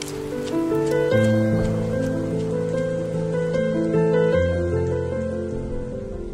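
Steady rain pours down in a continuous, even hiss at night, heard alone without talk beneath sustained musical tones that run throughout.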